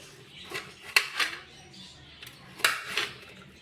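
A knife cuts food while a recipe is being prepared. A few sharp, separate taps and clicks on a hard surface are spaced out, with quiet pauses between them.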